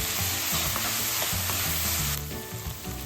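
Onion frying in oil with a little salt added, a steady close sizzle with stirring scrapes and soft clicks throughout, no voices.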